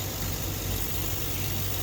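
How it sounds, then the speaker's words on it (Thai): A laser cutter's air pump blows steadily, its airflow a continuous broadband hiss over a low motor hum, fairly close and constant with no talking. "นี่เสียงลมออกแล้วเห็นไหมครับ"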